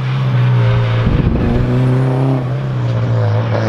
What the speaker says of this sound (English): We got ourselves an Evo out here